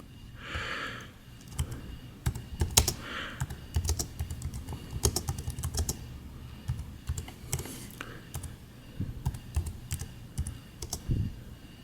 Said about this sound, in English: right here I'm just going to start typing.